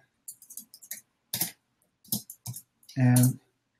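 Someone types a reply on a computer keyboard: sparse, irregular, close key clicks in near silence, followed by a brief burst of voice.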